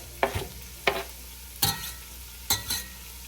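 Half an onion drops into sizzling garlic oil, giving four separate, close stirring or clattering hits spaced about a second apart over a low, steady sizzle.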